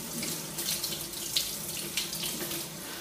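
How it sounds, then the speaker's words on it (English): Tap water running steadily into a sink while paint brushes are rinsed, a soft continuous splashing stream with small irregular spatters, nearby and fairly quiet, no voices. "Make sure it's well rinsed."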